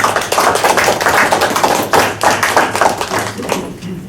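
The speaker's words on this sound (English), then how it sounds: "Let's give them a round of applause." Applause for artists at a press conference for the St Kitts Music Festival: a dense round of clapping hands, loud and close, holding steady for about four seconds before thinning out at the end.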